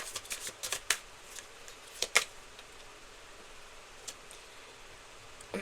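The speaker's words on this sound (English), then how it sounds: "Last shuffle." A deck of tarot cards being shuffled during a reading, a quiet close riffle of crisp card flicks in a few brief bursts with soft rustling between.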